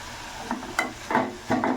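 Tomato chutney sautéing in a pan as tamarind goes in, a continuous soft sizzle broken by a few short stirring scrapes.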